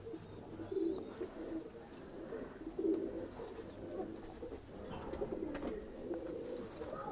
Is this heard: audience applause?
no